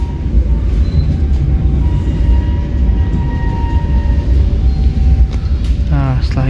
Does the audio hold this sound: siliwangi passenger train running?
yes